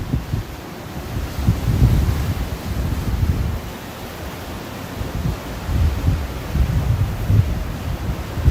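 Surf breaking along the Okinawa coast as a typhoon blows in, a continuous broadband roar of waves and wind with swells in loudness around two and seven seconds, no voices.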